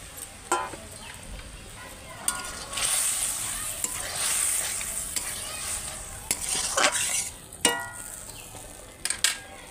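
Eggplant sizzles as it fries in a mustard-poppy seed paste, a steady bubbling hiss broken by scrapes and stirring knocks of a spoon against the pan.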